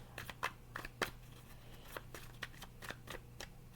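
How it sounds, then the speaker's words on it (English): Tarot cards being shuffled up close in quick crisp riffles and flicks, a series of short rustling bursts with brief pauses between them. "I don't like shuffling it that way."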